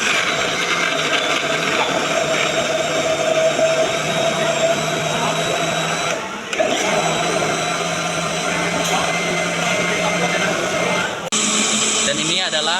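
A kitchen blender whirs loudly and steadily as it purees ingredients with 500 ml of water, a constant motor drone that dips briefly twice.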